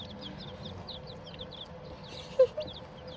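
Baby ducklings on a small home mini farm peep continuously in a rapid, high chirping chorus close by, with one sharper, louder peep standing out near the end.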